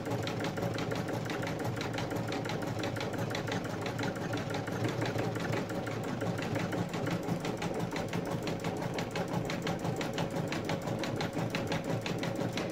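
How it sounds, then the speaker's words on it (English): A sewing machine stitches at its slowest speed, a steady, close, continuous mechanical chatter of rapid needle strokes that holds an even level throughout, with no talking. "my machine is set at the slowest speed that it'll stitch"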